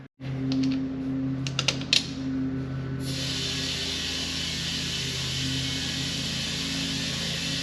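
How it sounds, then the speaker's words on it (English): Air is pumped into a tire fitted with an inner tube, a few clicks and taps giving way to a steady hissing rush of compressed air over a low mechanical hum. "Let's put some air in there, see if they'll hold some air."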